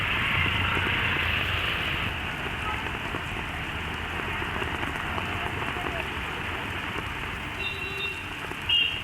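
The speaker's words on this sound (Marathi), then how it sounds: "जोरदार पाऊस सध्या नवी मुंबईमध्ये सुरू आहे" Heavy rain pours steadily in Navi Mumbai, a dense, continuous hiss of drops hitting surfaces that stays loud and unbroken throughout.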